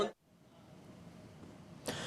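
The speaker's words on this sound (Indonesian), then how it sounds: "Saya batuk loh gara-gara itu." A single short cough bursts out near the end after a quiet, low room hum, close and fairly loud with no talk around it.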